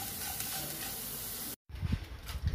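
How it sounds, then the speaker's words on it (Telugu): Grated carrot fries in a pan over low heat for carrot semiya upma, giving a steady close sizzle that cuts out briefly, then returns with soft stirring scrapes. "క్యారెట్ని సిమ్లో 5 మినిట్స్ బాగా ఫ్రై చేసుకుందాం."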